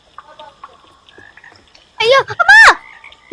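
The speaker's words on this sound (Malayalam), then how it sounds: "തവള നമ്മുടെ പുറകെ ഉണ്ടാവും." A frog croaks in a Roblox obby game, a few quick, loud warbling croaks after quiet game sounds, with a child's short exclamation nearby.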